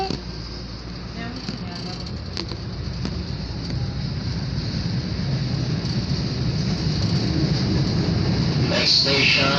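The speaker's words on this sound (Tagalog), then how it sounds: "Kung gusto nyo po makita kung paano umandar yung tren sa loob" A passenger train rolls along, heard from inside the carriage as a steady, fairly loud rumble and hum that builds gradually, with faint onboard noise and no clear talk.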